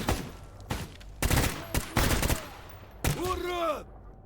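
Loud gunfire in an underground level of a shooter game, several heavy bursts and single shots at close range separated by brief pauses, with a voice breaking in near the end.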